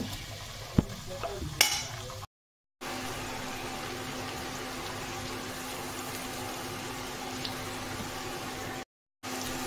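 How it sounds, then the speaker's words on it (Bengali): Onion frying on medium heat in a pan, a steady low sizzle running throughout with a couple of sharp stirring clinks near the start and two brief silent gaps. "এইবারে মিডিয়াম হিটে রেখে পেঁয়াজটাকে আমি একটু ফ্রাই করে নেব।"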